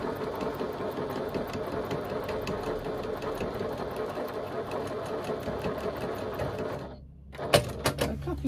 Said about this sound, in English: And I'm going to stitch up the side.